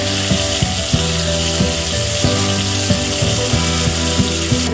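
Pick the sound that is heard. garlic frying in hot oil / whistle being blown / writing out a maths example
garlic frying in hot oil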